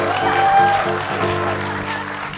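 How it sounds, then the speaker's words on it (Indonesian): Studio audience applauding on an Indonesian TV talk show set, a steady wash of clapping under music and a host's voice talking over it throughout. "Tepuk tangan dong buat Mas Gamelawan."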